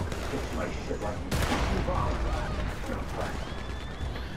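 Gunfire in Red Dead Online during an All Hallows Eve event: a sharp, loud rifle shot cracks partway through over a noisy outdoor game backdrop, with other scattered reports and clatter around it.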